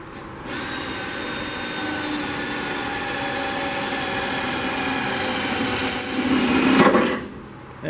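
A steady, high-pitched power drill whines continuously through sheet metal on a 1969 Chevy C10 for several seconds, then winds down near the end; no talking.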